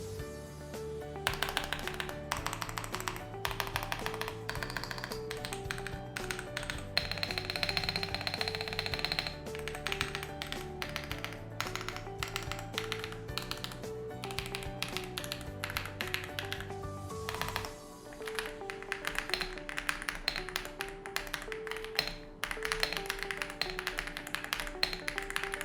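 Typing on a Vortex Series Xera87 hot-swap keyboard with PBT double-shot keycaps produces a rapid, steady run of close, crisp key taps, with music playing underneath throughout.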